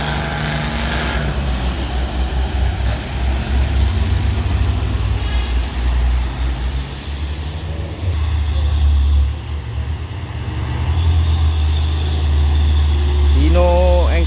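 A Hino single-axle truck labors up a steep hill road and overtakes, its engine roar rising and shifting loud and near amid other traffic, with someone talking over it.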